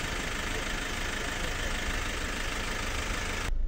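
Steady, close diesel rumble from a Maxus Deliver 9 van's engine ticking over at idle, dense and unchanging, ending with a slight shift in tone.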